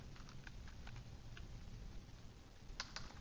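Quiet, rapid keystrokes on a computer keyboard tap out a short phrase while entering text into a spreadsheet, scattered light clicks over a faint background hiss, with a small cluster of sharper presses near the end.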